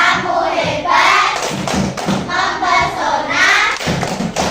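Classroom of pupils doing a rhythmic appreciation clap, loud patterned claps and thumps in unison mixed with chanted voices, close and lively for a few seconds.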